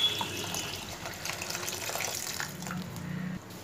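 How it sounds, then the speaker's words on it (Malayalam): Water being poured into a pan of potato masala. A steady splashing, running-water sound flows for several seconds, close and fairly quiet, then eases off at the end. "ഇതിലേക്ക് വെള്ളം ഒഴിച്ചു കൊടുക്കാം,"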